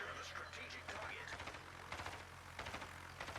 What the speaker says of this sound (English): As SirHamer goes back to work with the rocket planes.